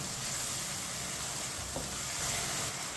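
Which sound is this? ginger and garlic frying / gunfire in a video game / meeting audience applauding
ginger and garlic frying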